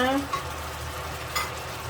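Pork and mushrooms, including blood-red and striped-stem bolete types, stir-frying in a pan with a steady close sizzle and scraping stir strokes, briefly louder near the start and again midway.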